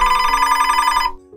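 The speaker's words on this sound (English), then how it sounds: "the phone rang" A telephone rings with steady, loud electronic bursts that fill most of the moment, then cut off abruptly into near silence.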